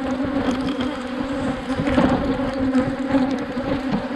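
Honey bees in a hive being opened by a beekeeper, a dense, steady close-up buzzing with no talk.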